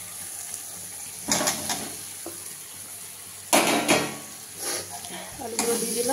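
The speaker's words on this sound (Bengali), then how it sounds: "গুঁড়ো, একটু কাশ্মীরি রেড চিলি, এগুলো আমি দিয়ে এখন এটাকে ভালো করে নাড়াচ্ছি" Ground spices and Kashmiri red chilli frying in oil in a pan, a steady sizzle broken by several bursts of a spatula scraping and stirring against the metal, close up with no talk.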